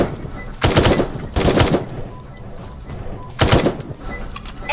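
MA-16 rifle fire in a multiplayer shooter game, three loud close bursts of rapid automatic shots separated by short pauses with quieter game ambience between.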